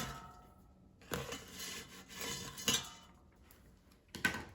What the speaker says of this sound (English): let's take out the air fryer basket and flip the hot pockets over so they cook evenly